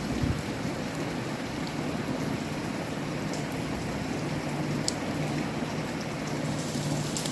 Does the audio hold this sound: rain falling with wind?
yes